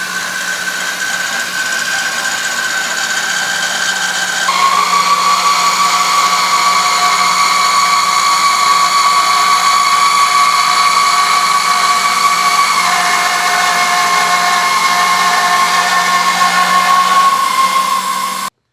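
A rotary head mill cuts a round pocket in metal, about three-quarters of an inch deep, for a custom planer: a steady, loud machining whine with a sustained tonal ring that steps up in pitch partway through and runs continuously.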